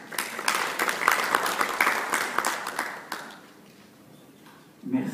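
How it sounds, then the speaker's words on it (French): Audience applause at a conference on Islamic finance in Morocco, a dense burst of clapping lasting about three seconds before fading into a quieter room. "Sous vos applaudissements"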